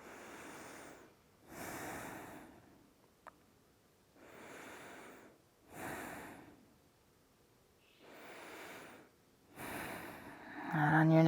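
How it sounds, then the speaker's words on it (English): Slow, deep yoga breaths, heard as long rushing inhales and exhales repeating about every two seconds, close and quiet, with no other sounds around them. "Now let's take 3 more deep breaths here."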